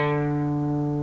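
A single distorted electric guitar power chord for a song rings steadily and loud, close up and sustained with no talk.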